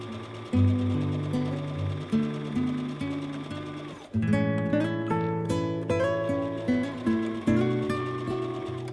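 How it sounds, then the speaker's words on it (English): A sewing machine sews a straight stitch to join two pieces of fabric. A steady mechanical whir runs with a rhythmic pulsing that speeds up partway through, close and alone with no voices. "Then I brought everything to my sewing machine and I joined these fabrics with a straight stitch."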